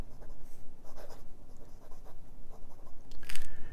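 Fine, very wet nib of a 1952 Sheaffer Craftsman fountain pen writing on paper, giving soft, close scratchy strokes in short bursts with brief pauses.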